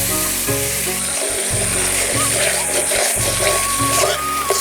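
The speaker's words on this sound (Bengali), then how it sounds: "কাজু বাদাম বাটা দিয়েছি, এবার ভালো করে একটু কষিয়ে নেব।" Cashew paste and spices frying in a pan for a vegetarian potato curry, a steady close sizzle running throughout with a low droning hum underneath and no one speaking.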